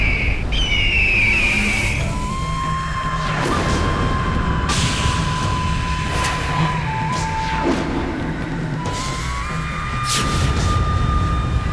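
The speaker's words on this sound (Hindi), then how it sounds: "इतना विशाल काय पक्षी," Squawks of a giant mythical bird, Sampati, sounding over a dense, loud, roaring backdrop, with sharp screeches near the start and several later cries; no one speaks.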